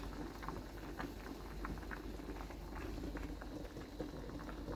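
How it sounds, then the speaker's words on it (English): Rice water bubbling at a steady boil in a pot, soft continuous popping and burbling heard close but quietly. "So now that we've gotten it up to the boil,"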